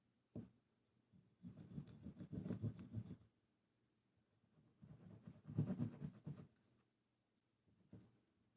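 A knife being polished by hand, two bursts of scratchy rubbing strokes, each lasting a second or two, separated by quiet, with a couple of short scrapes, faint and close up.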